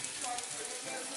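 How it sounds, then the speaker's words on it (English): Falafels fry in hot oil with a steady, close, broadband sizzle that holds evenly throughout, with no voices over it. "got a nice little sizzle there"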